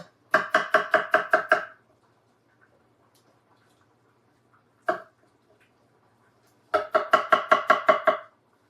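A knife cuts the tops off strawberries on a board with close, crisp, rapid chopping taps in two quick runs of about seven strokes each, separated by a single isolated tap and near silence.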